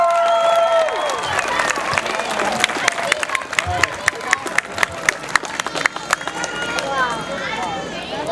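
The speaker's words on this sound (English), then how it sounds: "All right, big round of applause for Ty." An audience at a Taser demonstration claps and cheers, with sharp individual claps standing out through a lively crowd. A voice speaks over the applause near the start.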